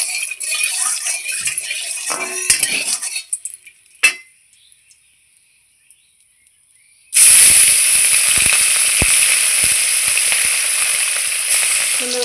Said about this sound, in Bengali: তেলও খুব সুন্দর করে গরম হয়ে গেছে এইবার আমি মাছগুলো ছেড়ে দেবো